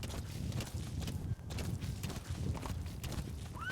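Horse hooves clip-clopping from D-Horse in the video game Metal Gear Solid V: The Phantom Pain, a quick steady run of hoof thuds over a rumbling game soundscape, fairly close.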